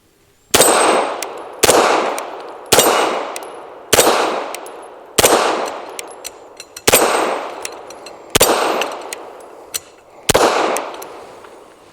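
Eight sharp gunshots from a Tisas 1911 Duty B9R 5-inch pistol loaded with PMC Bronze ammunition, spaced roughly every one to one and a half seconds, each loud crack ringing and decaying before the next, with no voices.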